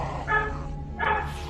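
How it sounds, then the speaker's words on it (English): Two dogs bark in a pair of short, yipping bursts, fairly close and loud over a low background hum. "My dogs hear that and they're barking now."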